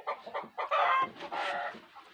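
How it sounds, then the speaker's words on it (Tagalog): Chickens clucking close by, followed by a drawn-out rooster crow, the calls coming in quick uneven bursts and carrying loud and clear with nothing else over them. "May mga manok."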